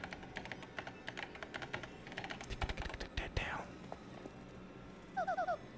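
Typing on a keyboard in Paper Mario: The Thousand-Year Door comes through as bursts of quick clicking keystrokes, then a short chirping blip sequence near the end, fairly close over faint background game sounds.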